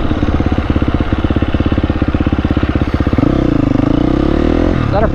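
Dirt bike ridden through backyard desert washes at sunset, its engine loud and close with a rapid pulsing exhaust that shifts into a steadier, higher rev partway through.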